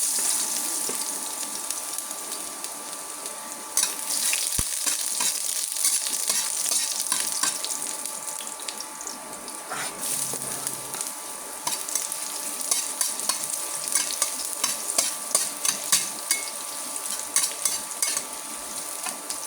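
Garlic, ginger and onion sautéing in a pan for a Filipino green saba banana dish, giving a steady loud sizzle with scraping stirs and occasional clinks, alone with no talking.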